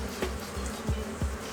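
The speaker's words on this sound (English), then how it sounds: "Realizing the entrance to their hive is blocked, the angry bees continue to attack Reed and Jim." A swarm of angry killer bees attacking at a blocked hive entrance, heard as a dense, continuous close buzzing with individual bees droning past in brief swells.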